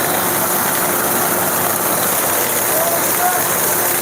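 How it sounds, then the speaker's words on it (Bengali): Heavy rain falls during a night storm in Sylhet, a loud, dense, unbroken wash of noise with a low rumble underneath, steady throughout. "ঝড় তুফান, অনেক বৃষ্টি পড়ছে।"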